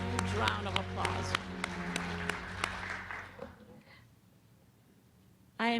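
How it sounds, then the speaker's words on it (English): Audience applause at a university strategic planning forum, a busy spread of clapping mixed with other room sounds that fades to near quiet before a brief loud burst at the end. "Now, a huge round of applause"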